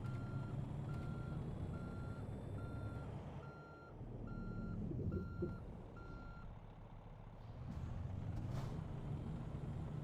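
A reversing truck sounds a steady series of evenly spaced beeps over a low engine rumble, with a hiss of air brakes and vehicle noise rising and falling in between.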